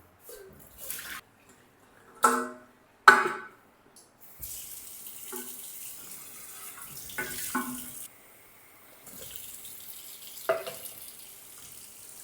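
Water runs from a tap in a steady stream for a few seconds at midnight, framed by brief splashes and clunks before and after.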